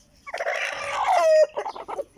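Aseel chickens, a hen and roosters, cluck and crow close by, one drawn-out crow followed by a quick run of clucks.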